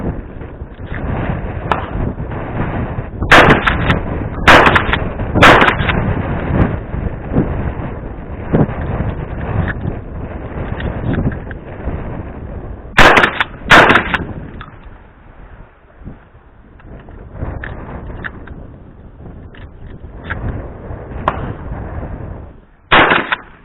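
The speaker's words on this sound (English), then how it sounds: "We'll shoot it, and we'll just shoot the rest of the ammo I got in my pouch." Pump shotgun firing in a series of loud, sharp blasts, some spaced and some in quick pairs, with the racking and handling noise of loading heard between shots outdoors.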